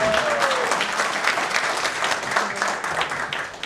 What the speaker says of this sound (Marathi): जरा जोरदार टाळ्या मुंडगेकर सर